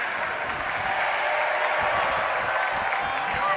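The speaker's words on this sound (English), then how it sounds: "they're going to clap their way over the final minute." A hockey crowd at Alfond Arena stands and claps steadily through a game's final minute, with dense, continuous applause and a murmur of cheering filling the arena.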